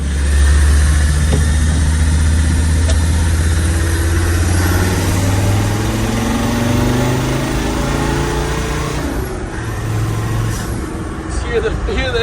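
A TD5 diesel engine swapped into a Series 1 Land Rover, driving with a loud, steady low rumble and intake roar, the pitch rising and falling as it pulls, with voices talking over it.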